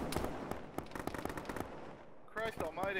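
Rapid bursts of automatic gunfire and single shots crack through a ShackTac military video game battle, dense at first, then easing before a voice speaks near the end.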